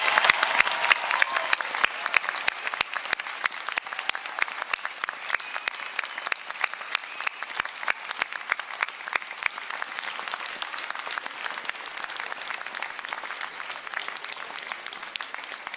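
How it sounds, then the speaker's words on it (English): A large graduation ceremony audience applauds in a sustained, dense round of clapping, strongest at the start and then settling into an even, continuous patter with no talk over it. "Let's have a big round of applause."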